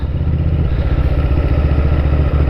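Motorcycle engine running steadily up close as the bike rounds a corner on a greasy, muddy road, a continuous low throbbing drone with a rough clattering texture and no talk.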